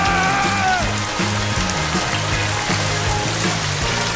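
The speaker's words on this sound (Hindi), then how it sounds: "ओह, लगता है बारिश शुरू हो गई है।" Rain patters steadily in a dense, even hiss of falling drops, with a rhythmic music track playing underneath throughout.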